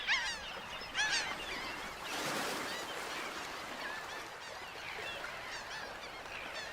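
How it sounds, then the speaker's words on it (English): Flock of shorebirds — sanderlings, red knots and ruddy turnstones — feeding on a beach among horseshoe crab eggs at spring tide, with a steady wash of chirps and high calls, a few louder bursts near the start, over soft surf. "millions of birds, sanderlings, redknots, ruddy turnstones descend on the beaches to partake of an egg feast"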